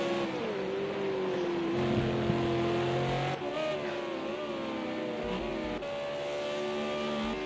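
V8 Supercar race cars at the Fuji circuit in a racing video game whine past with high, revving engine tones that rise and fall through gear changes, a steady loud drone of several cars.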